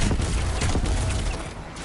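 A grenade goes off in Destiny 2, a loud, dense burst of blast and rumble that fills the whole short moment and fades slightly at the end.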